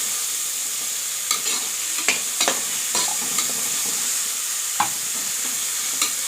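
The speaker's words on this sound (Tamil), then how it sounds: "இப்போ வெங்காயம் நல்லா வதங்கிட்டோம்" Onions sizzle steadily in a hot pan while a utensil scrapes and stirs, giving sharp clicks every second or so against the constant frying hiss.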